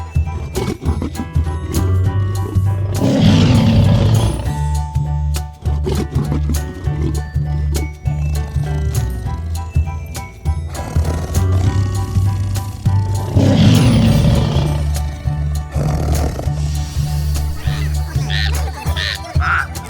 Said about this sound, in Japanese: ライオン。